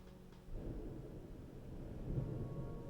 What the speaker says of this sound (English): Do y'all hear that thunder?